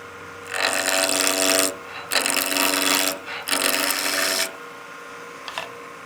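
A skew chisel cuts wood on a lathe, making three loud rasping shaves separated by brief pauses, followed by quieter spinning and a faint tick.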